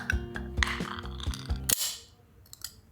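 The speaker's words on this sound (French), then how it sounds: "On va décapsuler cette canette." Metallic clicks and clinks lead to a sharp hiss as a can is cracked open, followed by quiet fizzing.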